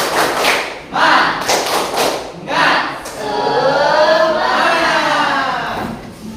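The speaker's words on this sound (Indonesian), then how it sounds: "semuanya tepuk semangat" Classroom "tepuk semangat" cheer, a group of students clapping in a strong rhythmic pattern of loud bursts, ending in a sustained shouted group cry.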